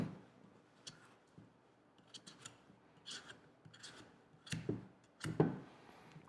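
A knife scores the skin of a butternut squash with soft, scattered scraping and rasping strokes, quiet at first and then a few louder cuts near the end. No one speaks.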